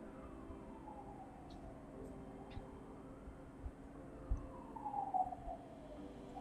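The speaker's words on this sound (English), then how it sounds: "I don't know if you guys can hear the siren." A faint siren wails in the distance, its rising and falling tone barely cutting through the steady rumble of road traffic.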